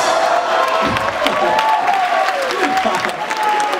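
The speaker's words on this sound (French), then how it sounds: "On applaudit encore bien fort Noam et Sephora et Julien." Steady concert audience applause with clapping and scattered cheers, voices mixed into the noise throughout.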